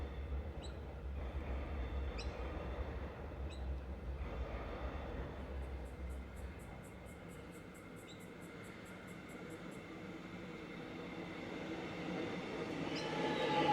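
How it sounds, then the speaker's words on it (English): A suburban train on the Alamein line rumbles steadily nearby at Riversdale station, wheels clacking and brakes hissing softly as it pulls in, with a faint high squeal and rising noise near the end. "as I moved, the train comes"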